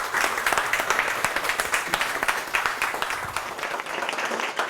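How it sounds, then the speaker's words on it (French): A steady round of audience applause at an inauguration ceremony in Martinique, dense overlapping claps sustained evenly throughout and heard alone without talk. "Merci de l'applaudir."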